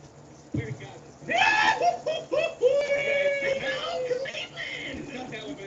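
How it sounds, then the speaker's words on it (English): A stock movie-style scream sound effect rises in a loud, drawn-out wail over about three seconds, mixed with laughter-like vocal noise and a busy background. "it's like a stock scream."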